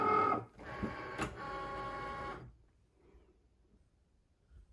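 A Cricut Maker cutting machine whirs and clicks as it draws in a cutting mat, a short mechanical burst of about two seconds that stops abruptly and leaves near silence.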